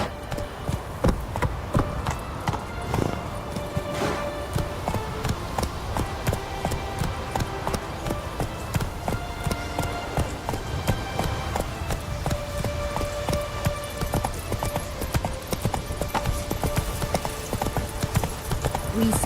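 Roach the horse gallops in The Witcher 3: Wild Hunt, a rapid, steady clip-clop of hooves that is close and continuous throughout, with faint game ambience beneath.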